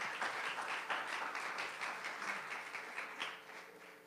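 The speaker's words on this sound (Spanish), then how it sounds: "Den un aplauso al Señor." A church congregation claps in a faint, steady stream of rapid hand claps from a room full of people, gradually thinning toward the end.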